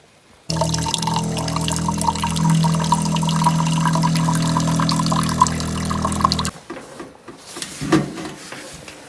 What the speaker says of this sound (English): It's hard to see when it streams, but you can see if you put it in a cup that it actually is pink now.